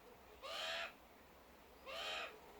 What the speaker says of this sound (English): they're not magpies, they're butcherbirds.